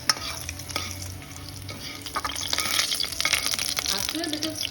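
Whole spices crackle and splutter in hot oil in a heavy-bottomed kadai for mutton korma, a dense busy sizzle with stirring scrapes that grows slightly louder toward the end, with no voice.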